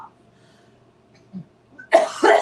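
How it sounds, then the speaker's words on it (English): A quiet moment breaks into two harsh coughs close by, one right after the other. "Go ahead, because I'm gonna have to cough."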